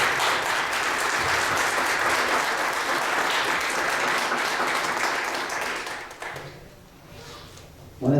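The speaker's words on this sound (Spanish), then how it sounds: "no sin antes recibirlo con un fuerte aplauso" Sustained, dense applause from a university lecture audience in Guadalajara welcoming a guest speaker, steady and fairly close for about six seconds before fading out into a quiet room.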